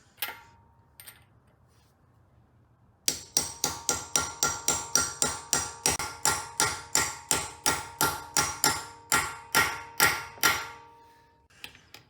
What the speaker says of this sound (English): You take this bad boy, and you hammer it on.